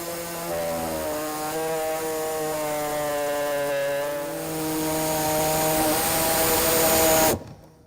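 A power tool cuts a 1.5-inch square hole in the bumper of a 2016 Mini Cooper Countryman, a loud continuous whine with a rising pitch that stops abruptly near the end.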